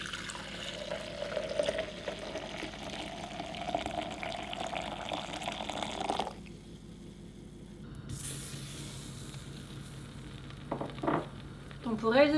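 Salted margarine melting and sizzling in a pan for a béchamel sauce, a soft continuous hiss that drops away midway, then resumes with light stirring and clinks near the end.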